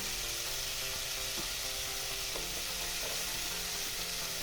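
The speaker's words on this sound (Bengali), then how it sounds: "মশলার সাথে আমার ঝিঙেটা একটু ভাজা ভাজা হয়ে গেছে" Ridge gourd fries with spices in a pan, giving a steady close sizzle with occasional light stirring scrapes and taps throughout.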